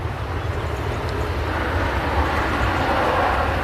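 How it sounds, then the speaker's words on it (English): A Sun Express Boeing 737 MAX 8 arriving at Manchester Airport from Antalya gives a steady, loud, broad jet roar throughout, sustained and close, with no talk. "So that is the Sun Express 737 MAX 8 from Antalya."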